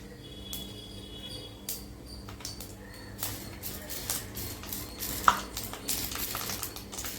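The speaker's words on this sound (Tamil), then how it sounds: "இப்போ கடுகு பொரிஞ்சிருச்சு" Rapid crackling pops and sputters from mustard seeds frying in hot oil, irregular and close, with a few sharper snaps.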